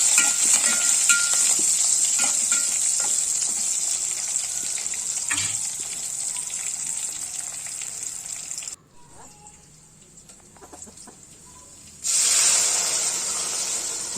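Tempering (tadka) sizzles as it is poured into tamarind rasam, with a steady, loud hiss that drops away briefly, then returns strongly near the end.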